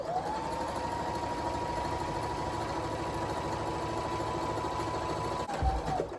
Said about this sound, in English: just top stitch around the whole thing